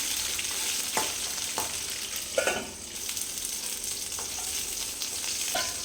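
Green chillies frying in a pan give off a steady, bright sizzle with a few occasional sharper pops and stirring scrapes, close and continuous, with no talk.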